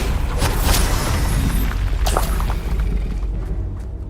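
Explosive spell blast from the Hogwarts Legacy video game, a loud booming burst with rumbling low end, sharp impacts near the start and around two seconds, then a fading tail.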